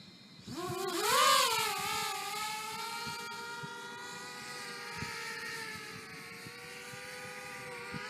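A VIFLY R220 220mm brushless FPV racing drone spools up and flies, its high-pitched motor whine rising sharply at takeoff and then holding a steady, buzzing drone with shifting harmonics, moderately loud and close with no talking.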